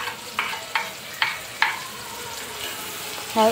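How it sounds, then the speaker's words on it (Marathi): Onion frying in a pan for a Kolhapuri dish, a soft steady sizzle punctuated by four evenly spaced clinks of a utensil against the pan and a brief scrape at the end. "कांदा भाजून घेणार"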